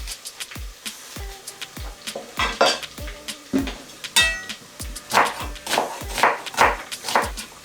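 Chopped onion goes into hot palm oil for a Ghanaian bean stew, with repeated close clinks and scrapes of a utensil on the pot over a building sizzle, no voices.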